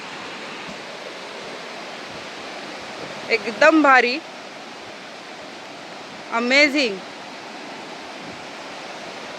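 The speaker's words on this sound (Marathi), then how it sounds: "मस्त वॉटरफॉल सारखं आहे, नदीसारखं पाणी वाहत आहे" Steady, loud rushing river water roars without pause, like a waterfall, on a rainy monsoon day in a Konkan village near Rajapur, while a voice speaks briefly twice over it.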